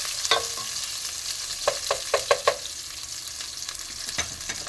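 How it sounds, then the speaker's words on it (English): Tomatoes fry in a pan with a soft, constant sizzle while a spatula scrapes and stirs, giving several sharp close clacks, some in a quick run of four or five. "The tomato are frying just a little bit."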